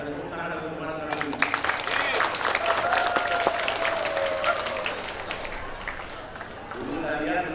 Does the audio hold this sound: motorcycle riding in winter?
no